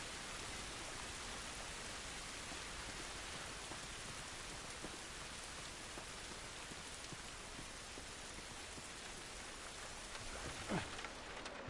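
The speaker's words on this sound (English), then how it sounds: "It's raining." Steady rain falls outdoors in The Last of Us, a soft, even hiss of drops on surfaces with no speech, faint throughout, and a brief low rumble near the end.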